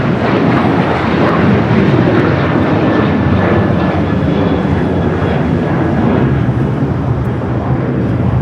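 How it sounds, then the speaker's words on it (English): A Japan Airlines Boeing 787 Dreamliner in oneworld livery, inbound from Tokyo Narita at Los Angeles, gives a steady, loud, broadband jet roar that holds evenly throughout, with a faint whining tone drifting across it. "Japan Airlines Dreamliner in the One World livery, the flight coming from Tokyo Narita."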